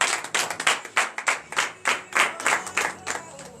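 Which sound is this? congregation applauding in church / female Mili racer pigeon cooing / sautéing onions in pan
congregation applauding in church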